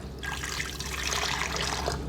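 Water poured steadily from a kettle into a vessel while being measured for pour-over coffee, a continuous close trickling splash lasting the whole moment without speech.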